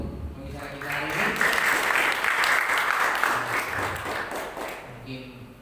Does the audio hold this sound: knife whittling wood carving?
no